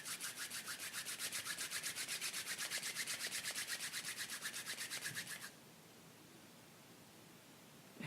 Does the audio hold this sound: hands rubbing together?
yes